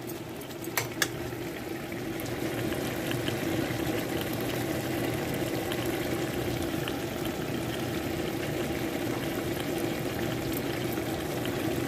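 Farm chicken frying in a pan of oil, a steady soft bubbling sizzle with a couple of brief clicks near the start.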